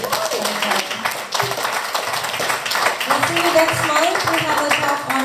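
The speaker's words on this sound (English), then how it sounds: "let's give another big round of applause for Mike and Dr. Kashyap Ram and Andy" An audience gives a round of applause at the close of a talk event, steady clapping from many hands running throughout, with talk and murmuring mixed in underneath.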